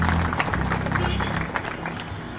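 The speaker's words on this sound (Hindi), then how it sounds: "इन सब के लिए जोरदार तालियां बजाइए।" Applause from a devotional crowd at a Bhagwat Katha gathering in Amravati, Maharashtra: a dense, continuous wash of many hands clapping, steady and fairly loud for the whole stretch, with no speech over it.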